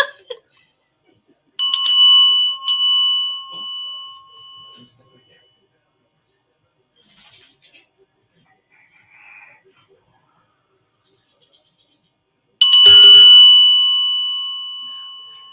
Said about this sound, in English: So this is the Indian bell.